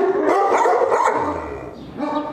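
A Turkmen Alabai, an ancient shepherd breed, barks in a short run of close, loud woofs with a brief whimpering edge, with no talk.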